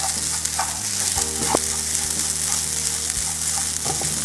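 Grated coconut frying in a pan as cardamom powder is stirred in, giving a loud, close, continuous sizzle with soft scraping stirs and faint background tones.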